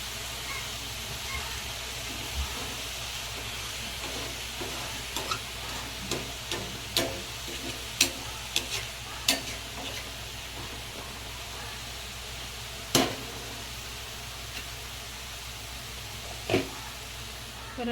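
Methi (fenugreek) bhaji cooks in a kadhai with a soft, steady sizzle and hiss, broken by scattered clicks and clinks of stirring, while a voice talks quietly now and then.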